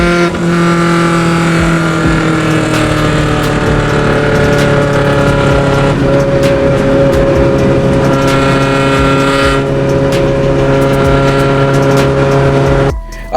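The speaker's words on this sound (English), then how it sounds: "this exhaust is way too loud" A Honda Civic idles close by with a very loud, droning aftermarket exhaust, holding a steady low rumble with strong harmonic tones before cutting off abruptly at the end.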